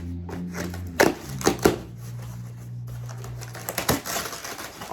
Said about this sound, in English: Here I go again with these scissors. So let's get this open.